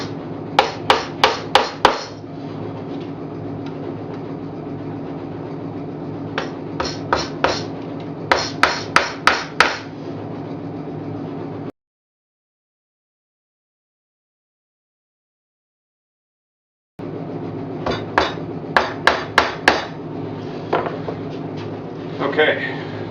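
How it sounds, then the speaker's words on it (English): A hammer drives nails through metal frame rests into a standard wooden bee hive box, sharp knocks falling in quick bursts of three to five blows, pausing between groups, with a silent gap midway and no talking. "So I'm going to just start by nailing these frame rests."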